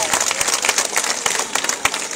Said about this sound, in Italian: Questo applauso è sincero!